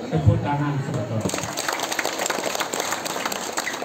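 Audience applause at a Balinese bondres performance after a sacred topeng mask dance, a dense burst of clapping that starts after a brief spoken bit and continues steadily, with voices mixed in.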